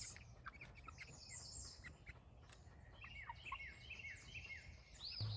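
Several birds chirp and tweet in a garden in the morning, with scattered bright calls and short trills over quiet background, fairly distant and soft.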